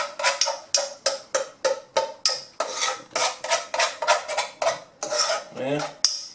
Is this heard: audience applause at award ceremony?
no